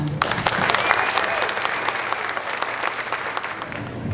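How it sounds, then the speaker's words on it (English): Audience at a school spring concert claps loudly and steadily in a packed hall, a dense, continuous crackle of many hands with a faint whistle-like tone drifting through the middle. "So one more round of applause."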